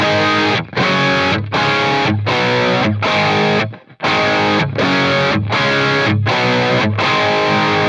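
Heavily distorted electric guitar through a Friedman Brown Eye amp and V30 speaker cabinet plays loud, chugging chords in a steady rhythm, about ten punchy strums with a brief pause midway.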